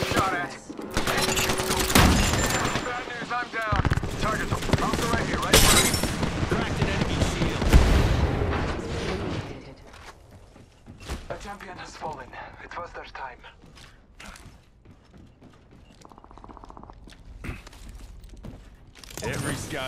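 Bursts of rapid gunfire and booming shots erupt in the battle-royale shooter Apex Legends, loud and dense at first, then thinning to scattered shots under spoken game voices.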